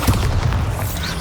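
A Bombarda blasting spell goes off in Hogwarts Legacy, a loud low boom that fills the whole moment with a rumbling, slightly crackling body.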